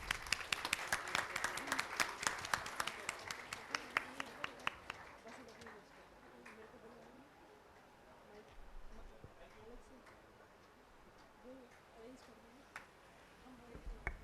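A crowd at the trailer and music launch of the Garhwali film Raibaar applauds loudly with dense clapping, which thins out after several seconds as voices talk over scattered claps, then rises briefly again at the end.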